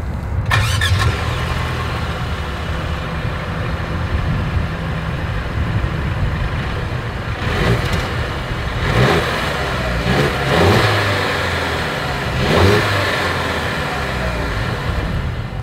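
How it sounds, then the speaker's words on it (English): A 2023 Mercedes-Benz GLC 300 Coupe starts with a quick crank and catch, then settles into a steady exhaust idle broken by several sharp revving blips, heard close and loud from behind the car. "Here is that exhaust clip"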